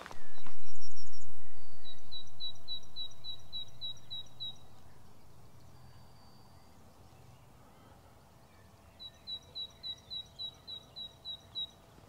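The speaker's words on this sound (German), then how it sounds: "so klein wie diese Vögelchen sind, so laut können die singen" A small bird sings clear, high, rapidly repeated notes in two bursts, fairly near, after a brief low thump at the start, at Kallmünz Castle.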